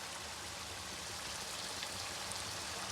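Boneless beef masala sizzling in oil after yogurt is added, a steady, soft hiss and crackle of frying with no pauses.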